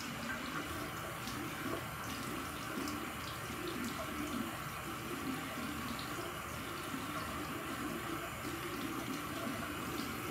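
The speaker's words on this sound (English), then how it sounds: "And then I just take warm water and rinse it off." Tap water runs steadily into a bathroom sink while someone rinses their face, a soft, continuous splashing hiss at moderate distance with no talking.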